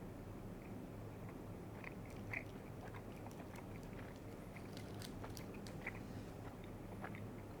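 Chewing on a Big Turk Turkish delight candy bar, a soft, sticky mouth sound close to the mic, with a steady low background hum and a few faint crunchy bites.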